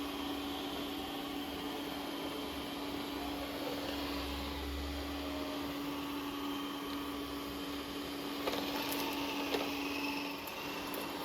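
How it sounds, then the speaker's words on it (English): A Dreame Matrix10 Pro robotic vacuum and mop cleans a floor nearby, giving a steady, continuous motor whir with a constant tonal hum throughout, and a few faint clicks and bumps toward the end. "This is the Dreame Matrix10 Pro, a smart robotic vacuum and mop system designed to automate daily floor cleaning."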